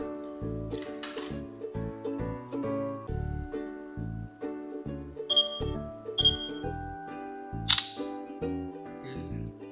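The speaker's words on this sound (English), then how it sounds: "Let's click a pic." Infinix Note 4 smartphone camera firing a few short shutter clicks, spaced about a second apart, that sit over steady background music with no speech.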